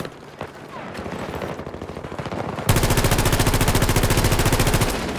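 An automatic weapon fires at a very fast rate in Battlefield 2042, a sudden long burst of rapid, evenly spaced, loud shots after scattered quieter shots and battlefield noise.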